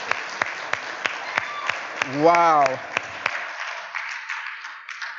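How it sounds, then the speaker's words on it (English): A church congregation breaks into brief, scattered applause for couples married sixty-plus years, a short burst of clapping under a speaker's voice, with a few isolated claps before and after. "We got to clap for that."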